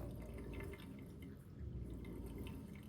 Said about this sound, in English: Go put in some water.